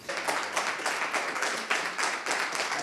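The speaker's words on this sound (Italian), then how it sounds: "È un applauso quello che accoglie Alberto Stefani, neoeletto presidente del Veneto" A crowd applauds as the newly elected president of Veneto is welcomed, a steady, moderately distant clatter of many hands clapping without speech.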